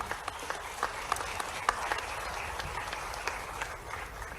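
Scattered audience applause at a business outreach summit in New Delhi, fairly faint and distant with a few sharper individual claps standing out over a steady wash.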